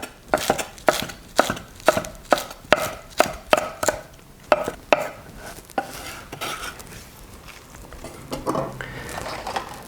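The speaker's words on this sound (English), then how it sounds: "So got some coriander, just going to use a little bit of this. Just run the knife through it once." A knife chops coriander leaves on a board in a steady run of about a dozen crisp, close thuds, then trails off into quieter handling of the herb.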